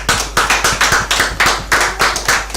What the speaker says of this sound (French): donc ça s'applaudit s'il vous plaît.